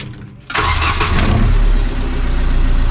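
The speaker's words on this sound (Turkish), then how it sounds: "birazdan marşımıza basacağız hayırlısıyla" A car's engine cranks and catches about half a second in, then settles into a loud, steady rumbling idle through a cut-out exhaust set to its quiet mode, running alone with no talk.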